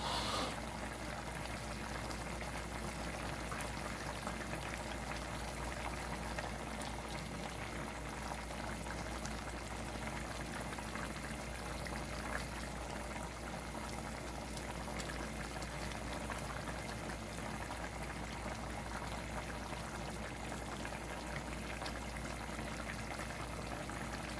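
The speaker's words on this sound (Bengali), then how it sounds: "তরকারিতে একটু জাল উঠে গেছে।" Fish curry with kachki fish boiling in a pot on a stove, a steady, continuous bubbling and rolling simmer that stays even and close throughout, with no voices.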